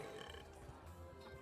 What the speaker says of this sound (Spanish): buen eructo